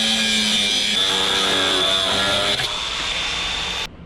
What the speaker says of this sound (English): I'll get the cutting wheel out.